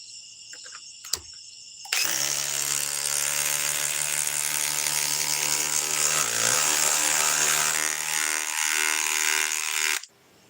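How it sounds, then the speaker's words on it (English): DeWalt hydraulic impact driver working on a tight nut, a loud, continuous close-up mechanical whirr and hammering buzz lasting about eight seconds after a short click, then stopping abruptly. "let's go on to the hydraulic DeWalt. Let's try to find a really tight one."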